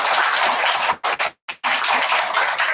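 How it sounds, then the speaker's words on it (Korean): Audience applause of encouragement at a church gathering, a dense, loud wash of clapping that breaks off briefly with a couple of short gaps before resuming steadily. "큰 격려의 박수를 부탁드립니다."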